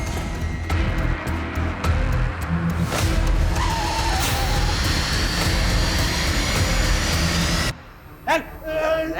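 A car speeds through a chase with a sustained roaring engine and tire skids, then the noise cuts off abruptly near the end, where voices briefly take over.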